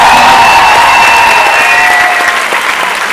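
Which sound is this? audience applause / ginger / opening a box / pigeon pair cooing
audience applause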